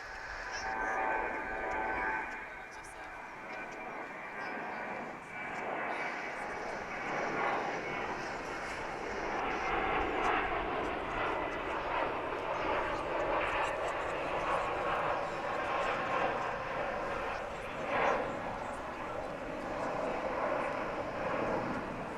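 American Airlines jet taking off at DFW International Airport, a long steady engine roar at moderate distance that swells and holds, with someone talking intermittently over it.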